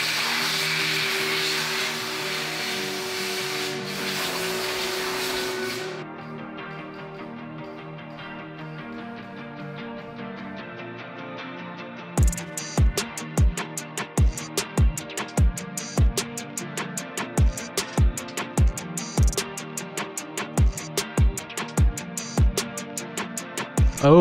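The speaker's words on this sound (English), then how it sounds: "connect air to our gun, and we are ready to spray." Compressed air hisses through a spray gun as paint goes onto a car wheel: a loud steady hiss, then a quieter stretch, then a rapid run of sharp, evenly spaced bursts.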